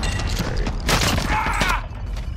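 Gunfire in the battle royale shooter Call of Duty: Modern Warfare Warzone, a dense, loud fusillade of shots that swells into a heavier burst midway through, with rumbling low thuds beneath.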